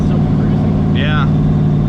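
A car engine idling unusually high, a steady, loud mechanical drone with a constant low hum that holds evenly throughout, a brief chirp rising over it midway.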